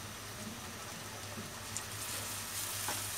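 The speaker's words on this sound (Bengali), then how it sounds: "এই পর্যায়ে আমি বেটে নেওয়া পিসটা এর মধ্যে আর একটু ভেজে নিব।" Ground mustard paste fries in a pan with pieces of hilsa fish, a soft, even sizzle heard close but quiet, with a low hum underneath and a few faint stirring touches.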